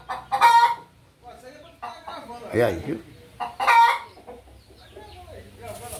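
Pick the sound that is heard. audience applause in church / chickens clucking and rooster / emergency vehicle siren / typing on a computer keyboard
chickens clucking and rooster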